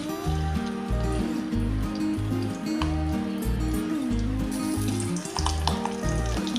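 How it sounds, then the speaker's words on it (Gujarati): Stuffed capsicums frying in two spoonfuls of oil in a kadai on a gas stove give a steady, close sizzle that runs the whole time under loud, rhythmic background music. "હવે આવી રીતે આપણે 2 કેપ્સિકમ કરીને તેલમાં તળી લઈશું"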